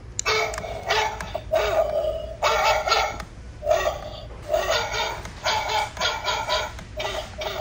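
A two-headed dog Halloween decoration barks repeatedly in loud electronic bursts, with short pauses between barks, heard close up inside a craft store.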